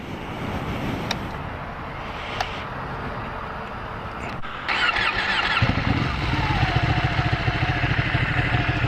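A motorcycle runs close by, with a steady engine drone that lifts into a louder, stronger note partway through as the bike pulls away under throttle.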